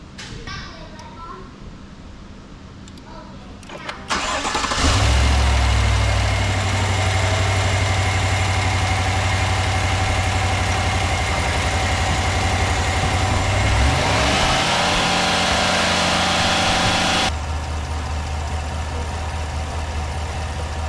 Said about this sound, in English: we're gonna go ahead and start the vehicle.